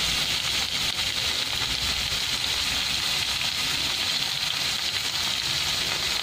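Ground pork sizzles steadily as it sautés in a hot pan. The hiss and crackle of frying stay constant and fairly close, with no talking.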